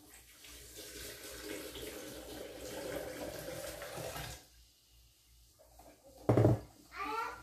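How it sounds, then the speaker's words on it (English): Filtered water pours from a tap into a pitcher in a kitchen while making cranberry lemonade, a steady running stream lasting several seconds, then a short louder splash after a pause. "And then I'm gonna fill it with 4 cups of filtered water."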